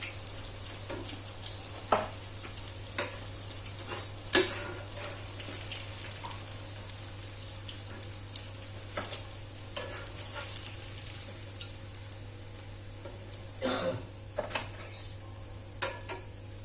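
Mie goreng noodles stirred and fried in a pan, giving a steady faint sizzle broken by soft scraping strokes of the spatula at irregular intervals, over a constant low hum.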